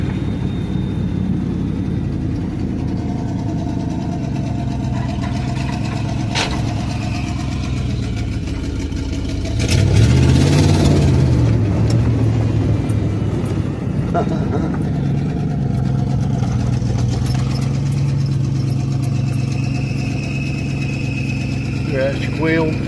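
A truck engine idling with a thin squeal from a worn clutch throw-out bearing running over the steady rumble, a rise in engine noise partway through, and someone talking at times.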